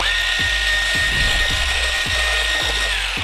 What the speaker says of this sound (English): I'm going to whisk for about 30 seconds or so.